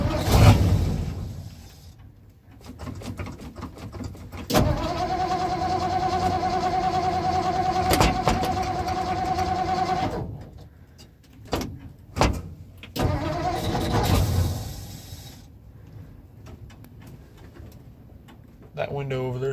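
A 1959 Ford F600 truck in cold weather cranks and its engine starts, settling into a loud steady idle close by, then cuts off and restarts amid outdoor background noise.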